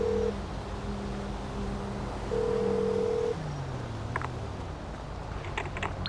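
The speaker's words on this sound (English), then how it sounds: "Yeah, so you can call the phone numbers." A telephone in the video game GTA 5 dialing a number: two sustained dial-style tones, then a falling tone, followed by faint scattered clicks and taps, heard alone without speech.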